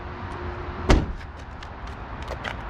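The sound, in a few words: Subaru Impreza GH car door slamming shut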